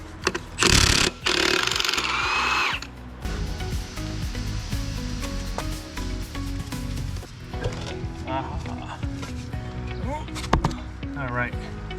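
Impact wrench on a 2010 Peterbilt 387 engine during teardown: a loud, rattling burst of about two seconds near the start, then softer clanks and shop noise with intermittent short tool sounds.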